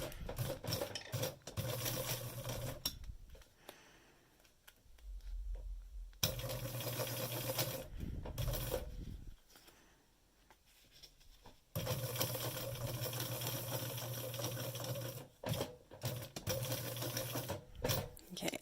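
A sewing machine stitches fabric for a centaur costume harness in steady whirring runs, pausing briefly between bursts, close and fairly loud with no talking.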